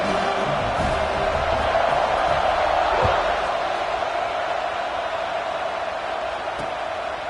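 A football stadium crowd at an FSU vs Florida game sends up a broad, steady roar of cheering that swells slightly and then eases, with a distant thud partway through.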